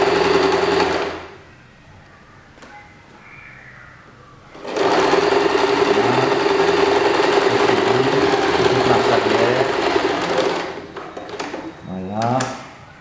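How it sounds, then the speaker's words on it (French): A sewing machine stitches the long 80 cm edges of a fabric snood neck scarf, running in a steady, loud whir after a brief opening burst and a quiet pause, then stopping near the end with a short mechanical clatter. "On coud au niveau des longueurs, les 80 cm."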